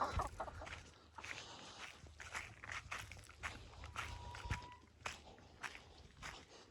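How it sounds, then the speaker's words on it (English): Several chickens cluck softly nearby as footsteps shuffle through the area, with scattered brief bird calls amid the rustling. "A little posse of chickens."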